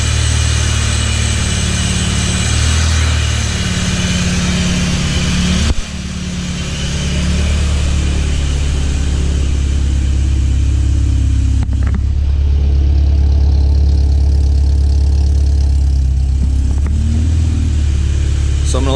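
A supercharged Honda CT70 motorbike engine idles steadily and close up, a continuous low rumble with air hissing from the blow-off valve, a brief dip near the start, running alone without talk.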